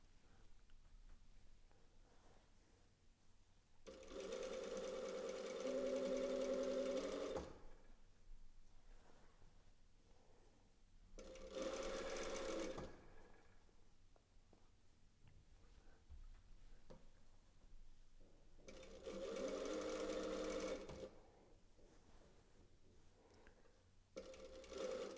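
A domestic sewing machine stitches a hem in three bursts of steady whirring, each a few seconds long, with quiet handling in the pauses between runs.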